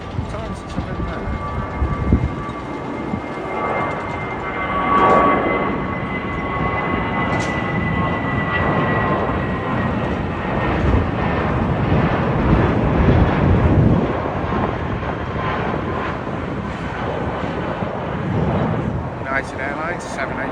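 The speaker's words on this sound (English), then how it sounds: "British Airways A320, and that's off to Gibraltar" A British Airways Airbus A320 departing Heathrow for Gibraltar gives a broad, steady engine roar that swells and holds for the whole stretch, with faint thin whines above.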